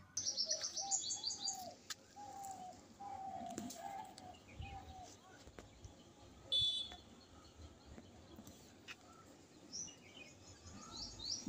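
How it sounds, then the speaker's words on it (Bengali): Birds call through a flowering palash forest: repeated bright chirps and short warbling phrases, a dove cooing softly in the background, and scattered high calls spread across a quiet outdoor space. "শুনতে পাচ্ছেন পাখির ডাক।"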